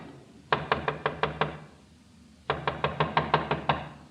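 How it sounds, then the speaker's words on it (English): Knocking on an outside door in an old-time radio crime drama: a quick run of six sharp raps, a pause of about a second, then a second, longer run of about eight raps, close and fairly loud. "Someone's trying the outside door."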